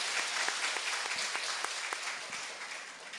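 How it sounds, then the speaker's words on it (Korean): A church congregation applauds during a Sunday service, dense steady clapping from many hands filling a hall, gradually thinning toward the end. "박수 한번 할까요?"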